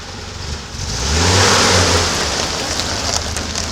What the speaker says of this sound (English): I spin the wheels. There's no weight on the back of it this way.